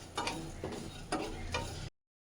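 Poppy seeds dry-frying in a pan over a low gas flame, giving a soft continuous sizzle with a few scraping stirs, close and alone before cutting off.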